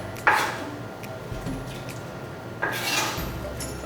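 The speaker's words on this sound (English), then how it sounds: "I'm just gonna take all this and toss this in the pot as well to get this cooking" Vegetables for a vegan Moroccan stew are tipped into a cooking pot in two bursts, each a clattering clink of utensil against metal followed by a soft rustling slide, with quieter shuffling between.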